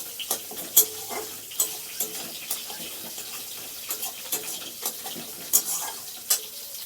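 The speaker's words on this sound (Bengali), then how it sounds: "মাছের তেলের আওয়াজ হচ্ছে।" Fish frying in oil in a wok for a Bengali breakfast dish, a soft sizzle under repeated scraping and stirring clicks, with a few sharper clinks of utensil on metal.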